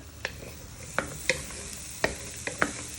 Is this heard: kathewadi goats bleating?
no